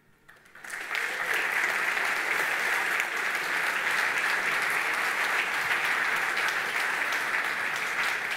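A large audience applauds after a talk on field ultrasound triage, the clapping swelling from a faint start into a steady, dense roar that holds for several seconds with no voices over it.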